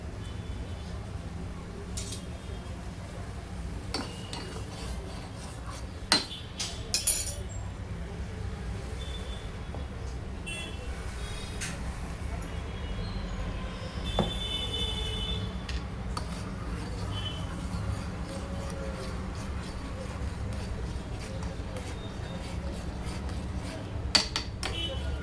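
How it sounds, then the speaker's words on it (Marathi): Spoon stirring sugar into tea in a pot on the stove, with sparse light clinks of metal against the pot over a steady low hum of the burner, no speech. "साखर टाकून घेतली बघा. तर हलवून घेते चहाला."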